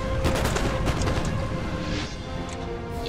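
Infantry musket volleys crackle in a Napoleon: Total War battle, dense overlapping gunfire and booms layered over a steady game rumble, loud and continuous with no voices.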